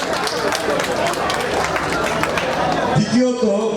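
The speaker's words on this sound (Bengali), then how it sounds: "জোরে করতালি দিই।" Audience in a hall clapping loudly at a Bengali stage event honoring a university batch: dense, continuous applause filling the whole stretch, with a voice rising near the end.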